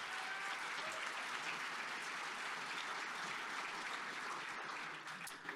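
An audience claps at an annual celebration, a dense, steady wash of applause holding at even loudness throughout and tapering only slightly at the very end.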